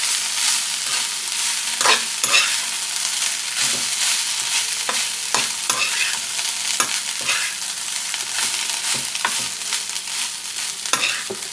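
Cooked rice is stirred into a fried carom-leaf mixture in a pan, with repeated close scraping strokes of a spoon over a low steady sizzle.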